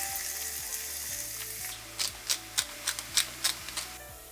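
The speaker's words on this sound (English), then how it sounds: "In a cast iron pan, add olive oil and cook the Italian ground pork." Italian ground pork sizzling in olive oil in a cast iron pan, a steady close frying hiss, joined in the second half by a run of sharp stirring scrapes and clacks at a roughly even pace.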